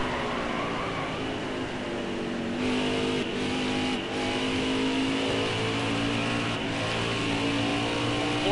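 Race cars running side by side in an oval racing video game at Iowa, a steady loud engine drone with layered overlapping tones shifting in pitch as the cars jostle, continuous and close.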